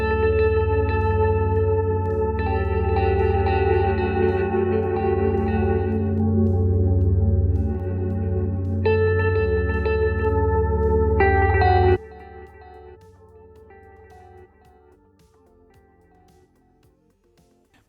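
A music track in DaVinci Resolve's Fairlight mixer plays with an echo effect, loud sustained tones for about twelve seconds before dropping abruptly to a quieter, thinner tail with lingering repeats.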